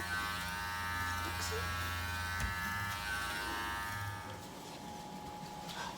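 An electric trimmer buzzes steadily at close range as it shears puppet fur down to a short pile, the hum wavering slightly as the blade moves through the fur before easing off near the end.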